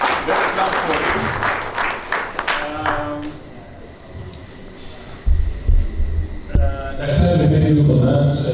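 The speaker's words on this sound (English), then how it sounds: "Let's clap for him." Audience applause at an affordable housing festival in Kisumu following a speaker's presentation, steady clapping through the first few seconds that fades, then rises again, with some voices mixed in.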